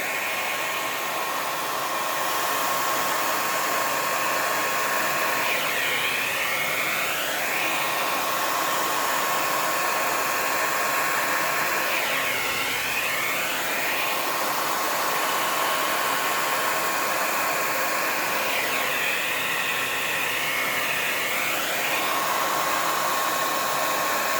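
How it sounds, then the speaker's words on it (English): A hair dryer with a directional nozzle blows loudly and continuously on a high setting, a steady rushing whoosh whose tone sweeps slightly as it is moved around. "I got my little handy dandy blow dryer with a directional tool on it here. I put it on high."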